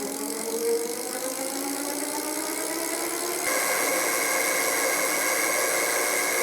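An e-MTB's electric motor spins up on throttle alone with no rider aboard, a steady whirring drone with rising tonal whine and faint rattle, close and continuous, growing slightly louder partway through.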